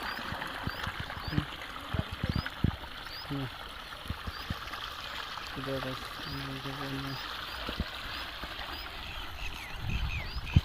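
Water pours and splashes continuously from a pipe, with scattered knocks and thumps and a few short tonal beeps in the background.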